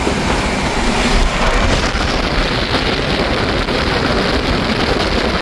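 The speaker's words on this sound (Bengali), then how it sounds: "আজকে আমাদের দার্জিলিং বেড়াতে যাওয়া সারথি দার্জিলিং মেল, যেই ট্রেন ধরে আমরা পাড়ি দেব কলকাতা থেকে দার্জিলিংয়ের পথে।" Darjeeling Mail at a Kolkata station, heard as a dense, steady rumbling roar of rail noise that continues without a break throughout.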